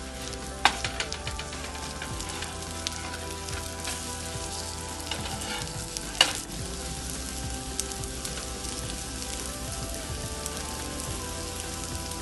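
Anglo-Indian beef cutlets frying in a pan after being flipped: a steady, crackling, rain-like sizzle at moderate level, with a couple of sharp knocks early on and midway.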